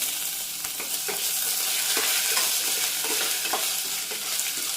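Curry leaves, ginger and green chili sputter and sizzle in a hot pan for lemon rice, a close, constant frying hiss with scattered light scrapes of stirring and no voices.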